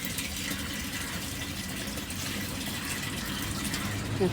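Water pours steadily into an overhead tank from a motor pump at a home, a continuous broad rushing splash with a low hum beneath, fairly loud and unbroken throughout.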